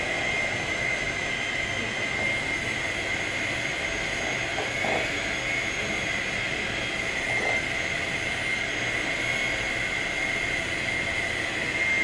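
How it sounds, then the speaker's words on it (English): An electric stand mixer runs fast on its lowest setting, beating chocolate chip and pecan cookie dough with a steady, loud whirring drone that holds without break from start to finish. "this mixer doesn't really have a super slow speed"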